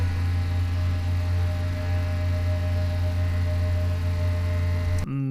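A lightsaber hum sound effect drones as a steady, loud low buzz with layered overtones, holding evenly throughout before cutting off abruptly near the end.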